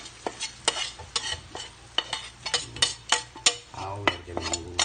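Meat being sautéed for a Filipino dish, with a utensil scraping and stirring in the pan in a steady series of sharp clanks over a low sizzle, close and moderately loud, and no talking.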